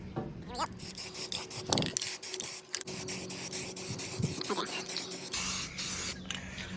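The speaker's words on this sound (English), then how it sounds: "I'm gonna go ahead and spray some primer" An aerosol can of primer hisses in continuous bursts of spraying onto a Miller Trailblazer 325 welder, a close, broadband rushing sound with brief pauses and faint handling noises.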